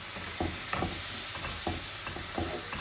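Fish and spices sizzling in a pan with a dense, continuous hiss, punctuated by regular scraping strokes of a spatula as it's stirred.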